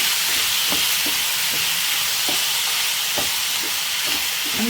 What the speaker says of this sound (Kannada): ಒಂದಿಷ್ಟು ಗೋಡಂಬಿ ಇದಿಷ್ಟನ್ನು ಫ್ರೈ ಮಾಡ್ಕೋಬೇಕು ಇದನ್ನು ಚೆನ್ನಾಗಿ ಮಿಕ್ಸ್ ಮಾಡ್ಕೊಳ್ಳೋಣ